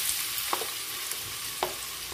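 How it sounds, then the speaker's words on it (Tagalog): Onions sizzle in hot oil in a pan, a steady frying hiss with a couple of soft stirring scrapes, close and moderately loud. "Init na yung kawali at yung mantika, so lagyan natin yung ating sibuyas."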